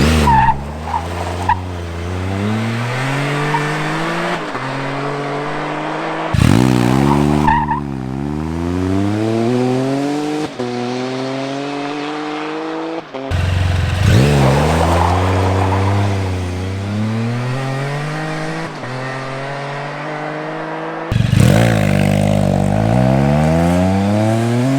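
A Can-Am off-road vehicle with an RLS catalytic converter delete exhaust accelerates in several loud runs. Each run rises in pitch through the gears, and no voices are heard.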